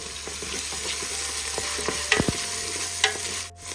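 Green chillies, mint and coriander leaves sauté in a pan with a steady close sizzle and repeated scraping stirs of a spoon, a few sharper clatters standing out before a brief drop near the end.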